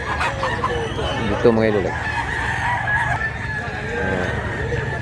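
Roosters and fowl at a poultry spot in Mantalungon, Barili, Cebu crow and cluck close by. Someone speaks over them, with steady background din throughout.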